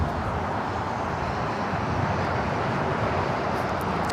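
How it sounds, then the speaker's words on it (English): An Air China Cargo Boeing 777 freighter touches down at an airport, its close, loud engine rumble holding steady and heavy in the low end, with no talk over it. "Just had that Air China Cargo 777 freighter touching down here on the south side"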